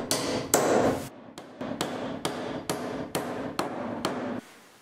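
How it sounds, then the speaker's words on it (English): Hammer blows drive nails into wooden nailers for a sheet metal stove flange in an off-grid woodland cabin, about eight sharp, evenly spaced strikes close by with no talk. "I just need some nailers, something to nail the sheet metal flange to."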